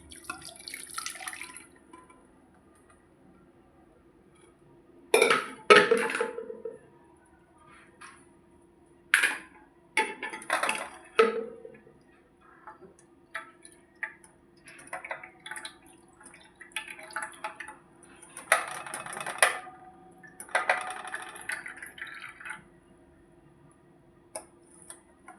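Hot soup drains through a kitchen strainer with scattered drips, taps and small splashes, quiet overall with a few louder clinks of utensils against metal and a faint steady hum underneath.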